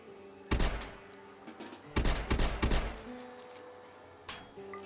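Colonists in the Rimworld game fire guns in sharp bursts: a volley of shots near the start, a denser cluster of rapid gunfire in the middle, and a final lone shot, loud against a quiet background.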